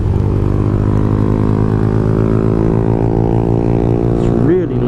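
Motorcycle with its exhaust missing, a very loud raw engine drone holding steady near the listener for several seconds before a quick rev rise at the end.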